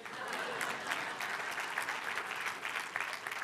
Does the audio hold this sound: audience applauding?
yes